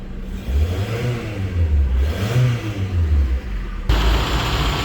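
A car engine, just repaired after hard starting, loose connections and a check-engine fault, idles and revs up and down several times, the wavering drone close and moderately loud with a brief shift in tone near the end.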